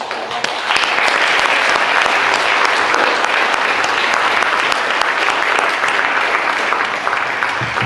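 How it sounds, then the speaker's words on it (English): Sustained audience applause at a piano studio recital as performers gather on stage, dense and loud throughout with no talking. "and let's give them a big applause."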